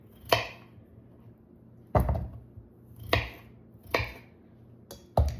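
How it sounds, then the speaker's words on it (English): A knife chops carrots into quarters on a cutting board, four or five sharp, separate thuds spaced about a second apart, close and clear against a quiet kitchen. "Just kind of quarter them up a little bit."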